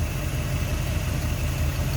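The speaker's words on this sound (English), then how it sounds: "2-quad setup, so dual 4 barrels on there, and boy does that sound good." A 1957 Chevrolet 210 two-door hardtop's V8 with a dual four-barrel carburetor setup idles steadily, a close, low, even rumble holding level and alone throughout.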